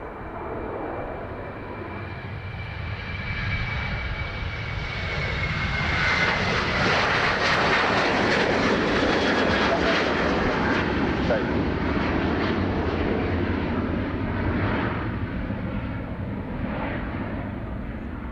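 A Ryanair jet airliner bound for Edinburgh takes off from Dublin Airport, its broad engine roar swelling to a loud, sustained peak and then slowly easing, with faint voices underneath.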